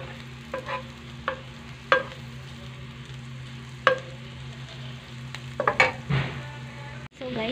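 Fried rice with grated carrots frying in a pan, a soft continuous sizzle broken by a few sharp scraping stirs and clinks, with a low steady hum underneath.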